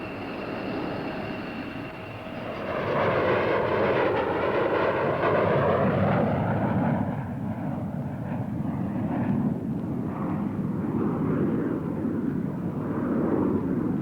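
An F-15 fighter jet flies past with a sustained, loud roar that swells after a couple of seconds and holds steady to the end, with shifting engine tones.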